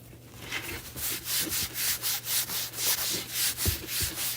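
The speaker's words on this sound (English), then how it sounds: "take a paper towel here, and we're gonna buff that in" A paper towel buffing wax onto a chalk-painted surface, a dry rubbing scrape repeated in steady back-and-forth strokes, close and fairly loud, with no talk.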